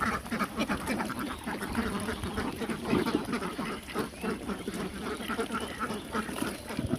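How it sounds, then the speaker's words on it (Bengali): A flock of farm ducks quacks repeatedly while feeding and swimming in a pool, their calls overlapping in a busy, close chorus with splashing and background noise. "হাঁস খাবার খাচ্ছে এবং এই যে পানিতে এসে সুইমিং পুলে গোসল করতেছে"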